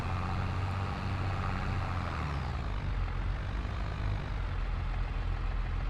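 A heavy farm vehicle engine in Farming Simulator 22 labouring up a steep incline after a gear drop: a loud, steady low drone with a rough rumbling texture throughout, no voices.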